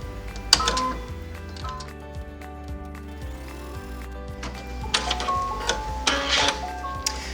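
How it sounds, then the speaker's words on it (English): A home embroidery machine sews a placement stitch on felt, giving a quick mechanical ticking and whirring hum with rhythmic stitch pulses and a few louder clacks. "we're going to start our placement stitch for leaf number 1 now"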